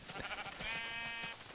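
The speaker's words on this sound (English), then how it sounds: "Come here, sheep!" A single Minecraft sheep bleat, a wavering nasal cry lasting under a second, clear and nearby with no talking.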